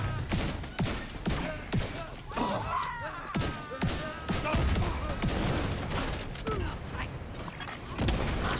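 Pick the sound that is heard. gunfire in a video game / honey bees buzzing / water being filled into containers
gunfire in a video game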